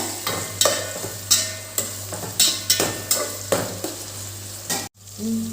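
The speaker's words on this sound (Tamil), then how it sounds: "நல்லா கிளறி விட்டுக்கோங்க" Tomato masala for chicken biryani is stirred in a hot pan, with a steady sizzle and about nine rhythmic scraping strokes of a spoon, then a brief break and quieter cooking at the end.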